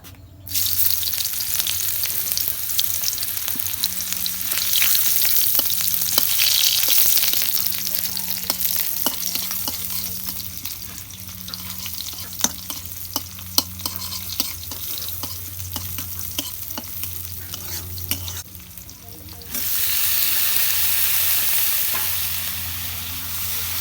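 Bitter gourd slices frying in hot oil in a home kitchen, with a steady close sizzle, occasional stirring scrapes and clicks, and a brief lull before the sizzling swells again.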